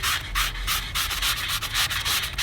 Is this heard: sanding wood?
yes